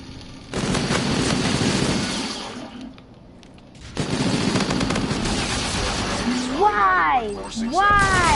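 Bursts of rapid gunshots in a PS4 video game, loud and dense, with a short lull in the middle and a player talking over the action.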